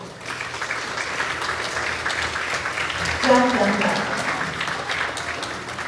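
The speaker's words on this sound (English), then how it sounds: "Round of applause, good." Students and families at a grades 4-6 school awards ceremony applaud an honor roll with steady, moderately loud clapping, while a voice briefly hums a short tune partway through.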